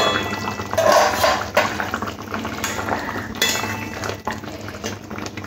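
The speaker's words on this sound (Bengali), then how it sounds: "একটু নাড়াচাড়া করে মিশিয়ে নিচ্ছি" Dahi katla, a Bengali yogurt fish curry with green chillies, being stirred in a pan: close metal spoon scrapes and clinks against the cookware over a soft simmering bubble, in irregular bursts without talk.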